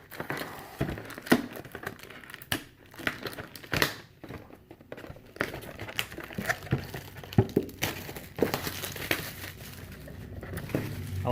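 Crinkling and tearing of the plastic wrapper on a 2018 Panini Prizm Mega Box of trading cards, irregular close crackles and rips with short pauses, no talk over it.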